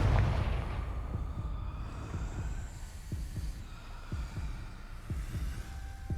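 A Confringo fire spell blasts in the video game Hogwarts Legacy, heard as a rapid run of deep, thudding low booms and impacts over a steady rumbling background, with no speech.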